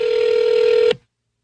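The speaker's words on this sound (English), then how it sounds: "Oh, it's ringing on my side." A telephone rings once on a call line, a steady electronic ring tone held for about a second before cutting off abruptly into silence.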